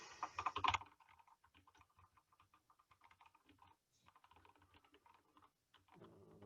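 Code being typed on a computer keyboard, a steady patter of quiet key clicks after a louder clatter at the start, close and without talk.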